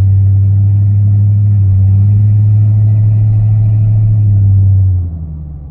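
A 1977 Malibu Classic's engine holds a loud, deep, steady drone that sags and bogs down near the end as the pitch drops.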